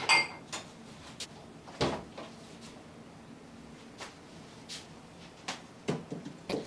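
Dishes are washed by hand at home, with sporadic clinks and clatters of plates and cutlery against a quiet room background, no voices.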